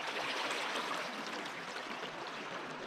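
Fast-flowing water at Barasibis Falls in Lagayan, Abra, a steady broadband rush of stream and falling water filling the scene, continuous and fairly loud with no voices.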